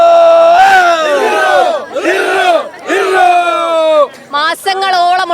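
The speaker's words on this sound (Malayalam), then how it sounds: "ആദ്യം ഒരു ആഘോഷത്തിന്റെ ആർപ്പുവിളി ആയാലോ?" Students celebrating a Kannur cup win let out loud, close, rhythmic chanted shouts in unison, three long rising-and-falling cries followed by a quicker burst of shorter whoops.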